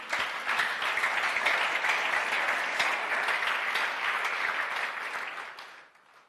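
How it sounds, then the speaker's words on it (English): Worshippers at a church men's and women's meeting clap loudly and continuously for several seconds before the applause tapers off into silence. "Clap for Jesus."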